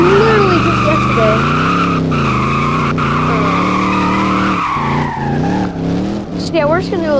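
A car drifts in Roblox on PS5, its tires squealing and sliding in long, loud wavering pitches over a steady engine drone, with quick changes of pitch as it slides and recovers.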